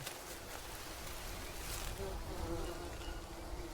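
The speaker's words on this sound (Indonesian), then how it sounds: "Ada tawon, anjir. Itu tawon ya." Wasps in the jungle survival game Green Hell buzz as a continuous, fairly faint drone under the game's ambient forest noise.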